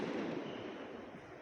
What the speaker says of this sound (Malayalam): പടക്കം പൊട്ടിക്കുന്നത് കണ്ടോ.